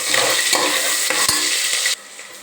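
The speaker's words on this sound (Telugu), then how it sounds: "పచ్చిమిరపకాయ, ఉల్లిపాయ, ఇది కొంచెం వేగాలి." Green chillies and onion frying in a pan, a bright, close sizzle with quick spatula scrapes and taps, cutting off abruptly near the end.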